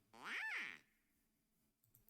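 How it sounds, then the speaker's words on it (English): A single cartoonish duck quack sound effect, one bright, nasal squawk that rises and falls in pitch, played loud and alone, followed by a brief faint click. "And there's several different Quack sounds."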